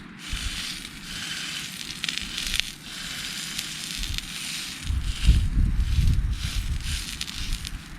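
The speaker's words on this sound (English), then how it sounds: "Now I'll pop my burger back in." Burger cooking on a camp stove during a November wild camp, a continuous crackling sizzle that grows heavier and louder midway, with outdoor rustle around it.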